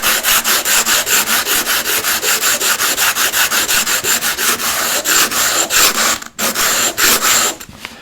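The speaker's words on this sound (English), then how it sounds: "Hold the sandpaper down like this, take your stone and you start rubbing it on the sandpaper." Sharpening slipstone rubbed rapidly back and forth on sandpaper held flat, a loud, steady rhythmic scraping of many quick strokes that pauses briefly near the end before resuming.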